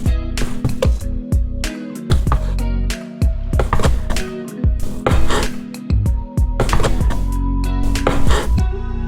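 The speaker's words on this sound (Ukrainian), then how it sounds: "Підварене або ж злегка підсмажене філе курочки будемо нарізати на довільні шматочки." A knife chops lightly cooked chicken fillet into pieces on a cutting board for an avocado and greens salad, with repeated close, sharp knocks in an irregular rhythm.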